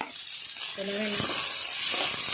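Cut garlic sizzles in a hot pan for chicken sukka, a short burst of steady frying hiss with a brief voice sound partway through.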